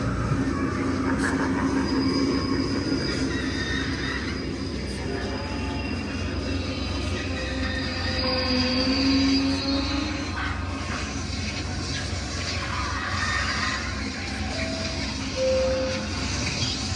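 A New York subway train sound effect plays from a Halloween store display, with a continuous rumble of rolling rail cars, clattering wheels, a few squeals and faint horn-like tones, steady and fairly loud.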